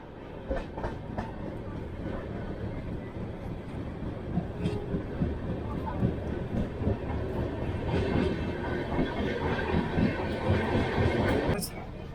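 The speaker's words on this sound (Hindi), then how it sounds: "अपनी ट्रेन निकल चुकी है बल्लभगढ़ से।" A Mewar Express passenger train runs on rails, a steady close rumble with rhythmic clickety-clack and rattling from inside a sleeper coach throughout, with a sharp click near the end.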